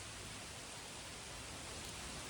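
Hail pelting down outdoors during a sudden storm, a dense, continuous hiss of countless small impacts with no letup, steady and fairly loud.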